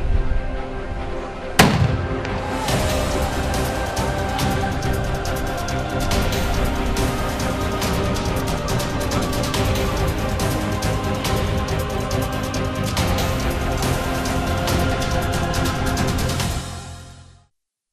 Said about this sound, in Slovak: výstrelmi z diela.